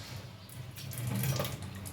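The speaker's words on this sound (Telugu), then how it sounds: "ఇలా ఈ ప్లేట్స్ పైన కొంచెం చల్లండి" Hot water sprinkled from a steel sink onto greasy kitchen chimney plates makes a soft, continuous splashing and trickling. It is fairly faint and close by, with no talking.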